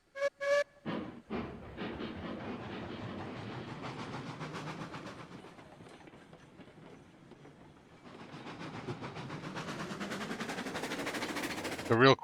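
A locomotive in Railroads Online pushes a 100-car train up a 0.5% grade, a long steady rumble with rhythmic clatter that swells, eases off mid-way, then builds again, with faint talk at the start.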